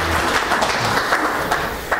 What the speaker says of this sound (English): Let's give our game show contestants a huge round of applause